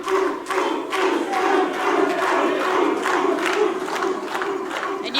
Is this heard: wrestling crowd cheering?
yes